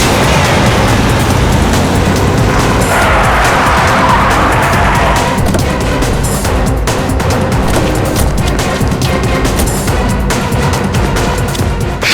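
A car speeds away with loud, screeching tire squeals and a roaring engine, close and intense over several seconds before settling into a sustained motor drone.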